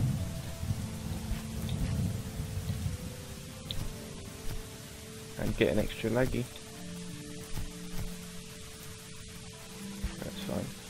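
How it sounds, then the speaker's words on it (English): Rain falls steadily in the video game Starbound with low rumbles of thunder underneath, a soft continuous hiss behind a player talking over it. "Oh, it's getting rainy."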